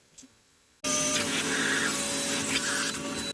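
A vacuum cleaner clears rag debris out of an engine intake, starting abruptly after a quiet moment and then running as a loud, steady, close whine with slight changes in pitch as the nozzle moves.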